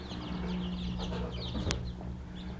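Young chicks in a rice-husk brooding pen cheep and cluck in soft, overlapping bursts, with a faint steady hum underneath and one sharp click midway.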